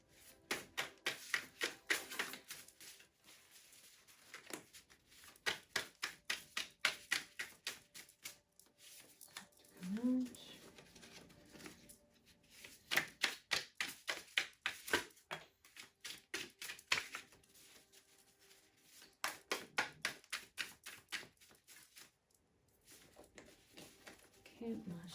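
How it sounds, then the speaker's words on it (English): Tarot cards are shuffled by hand in repeated rapid riffling bursts with brief pauses between them, while a voice talks quietly underneath. "Okay, last shuffle."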